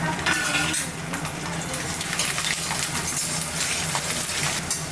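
Garlic dropped into hot oil in a pan already holding fried dried red chilli and nigella seeds for a Bengali fish dish, giving a steady close sizzle with clinks of a utensil against the pan throughout.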